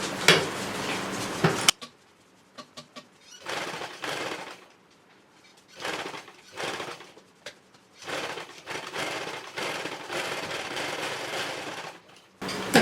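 A sewing machine stitches a blouse in repeated bursts of rapid mechanical whirring and clatter, each run lasting a second or two and separated by near-silent pauses, heard close with no talking.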